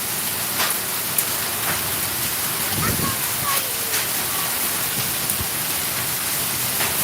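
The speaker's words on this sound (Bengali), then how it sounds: "কিভাবে এত বৃষ্টি হচ্ছে, এটা আমরা আসলে অবাক হয়ে যাচ্ছি।" Heavy rain pours down at night during a storm, a dense, even hiss of water hitting surfaces with scattered louder drops throughout.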